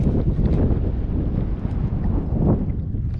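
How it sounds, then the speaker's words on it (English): Steady wind buffets the microphone out on open water during a solo fishing and camping trip, a loud continuous rumble with gusty swells throughout and no voices. "it's actually kind of windy here"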